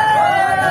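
Dense crowd of exam candidates gathered outside an exam centre in Darbhanga, a steady babble of many voices close by with one sustained tonal voice cutting through.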